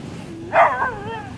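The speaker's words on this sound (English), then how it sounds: "here come the doggies" A dog gives a single short yip-like bark with a whimpering tail close by during a walk outdoors on Siargao Island, heard over quiet background noise.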